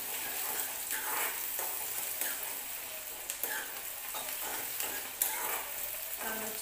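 Onion sautéing in oil in a pan for potato bhaji, a dense continuous sizzle with occasional soft stirring scrapes, close and fairly quiet.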